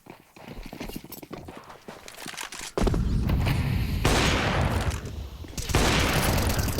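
Rapid gunfire bursts in Counter-Strike on the Anubis map, with scattered footsteps first, then dense loud volleys of shots continuing close by until the end.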